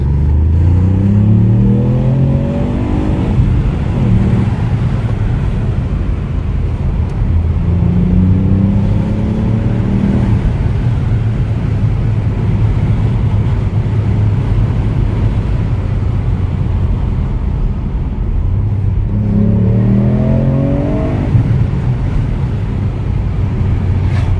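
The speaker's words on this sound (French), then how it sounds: "Dès que tu appuies sur l'accélérateur, ça te met instantanément dans le fauteuil." A Ford Puma ST with 200 hp accelerating hard on the road, heard from inside the car. The engine note climbs through three rising sweeps with gear changes between them, over steady road and cabin rumble.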